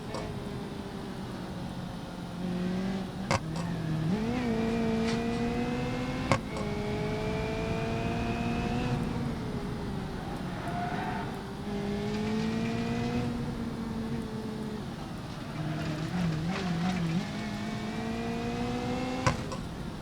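Mazda MX-5 NA engine in BeamNG.drive, revving and shifting through gears on a hill climb course, with rising harmonic whines that drop at each gear change and sharp thuds of impacts.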